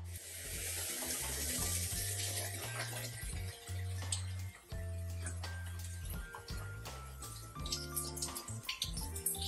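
Water runs and splashes steadily while shampoo is rinsed out of type 4 natural hair on wash day, with low background music underneath and brief dips in the flow.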